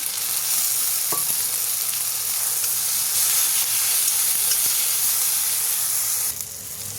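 Chopped tomatoes and a ground spice paste fry in a pan, giving a loud, continuous close-up sizzle and hiss with occasional faint stirring clicks, dropping off slightly near the end.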